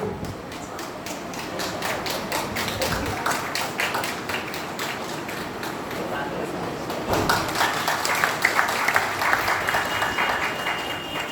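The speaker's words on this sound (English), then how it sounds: "We'd like to give Sister Veena Datta a huge round of applause for such a beautiful speech from her end" An audience applauds a speech by Sister Veena Datta at a yoga event in Kolkata, with steady, dense clapping that swells louder toward the end and voices talking over it.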